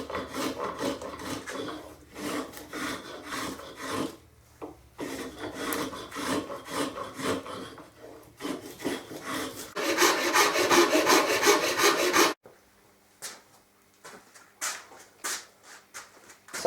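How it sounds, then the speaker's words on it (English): Rasp and spokeshave taking waste wood off a Guyatone LG50 guitar part, rhythmic scraping strokes in bursts, close and clear, louder and denser toward the middle before falling to scattered quiet scrapes. "I'll probably use a combination of the rasp and my spoke shave."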